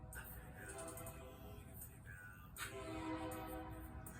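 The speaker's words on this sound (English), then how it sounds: "There's a train coming." A distant train rumbles past with a faint low roll and a couple of brief horn-like tones, heard quietly in the background.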